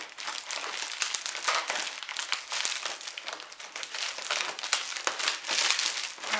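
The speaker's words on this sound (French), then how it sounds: "Donc j'avais commencé à couper d'un côté, je vais finir de l'autre." Protective parcel packaging being cut open by hand, with steady close crinkling and crumpling of plastic wrap throughout, no talk over it.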